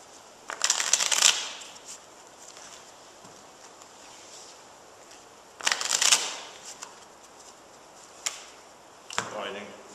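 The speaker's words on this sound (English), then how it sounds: "just take out the jokers if you'll shuffle them for me" A deck of playing cards, jokers removed, is shuffled by hand in a quiet room, giving three short bursts of riffling clatter with pauses between them and a brief softer rustle at the end.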